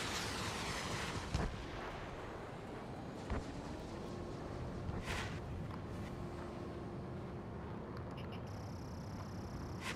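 Missiles and explosions in the video game Ace Combat 7 play over a constant jet roar, with three or four dull, heavy bursts spread across the clip and a steady electronic warning tone near the end.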